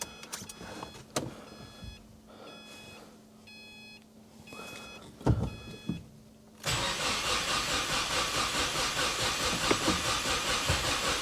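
A Subaru WRX with a knocking fault is being started. Beeps and a whirring electric sound come first, then the engine catches and settles into a loud, steady, slightly pulsing run, close by and with no talking.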